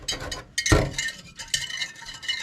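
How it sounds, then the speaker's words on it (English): Small whisk stirring vinegar and sugar in a bowl, giving quick close clinks and scraping against the sides in uneven bursts, with no talking. "Let's see here if I can get in there with this little whisk"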